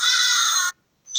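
An ibis gives a loud, harsh, raspy call lasting well over half a second, then a brief silence before a second call begins, heard alone and close.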